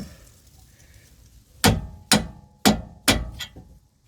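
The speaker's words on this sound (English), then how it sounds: "So ihit lang natin ng hammer ito dito." Four sharp, loud metallic hammer strikes on a Hyundai track rod end, evenly spaced about half a second apart, each ringing briefly, followed by a fainter fifth tap, with no talking.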